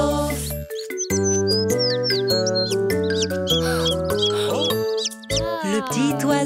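Cartoon little bird chirping in a children's animated story, several short high squeaky tweets and whistles set over bright, loud background music with tinkling notes, close and continuous.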